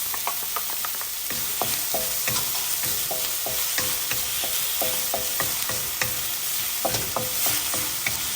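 Green onions, garlic and ginger stir-fry in a hot pan, a constant sizzle with repeated sharp scrapes and knocks of the spatula in an irregular rhythm, close and alone.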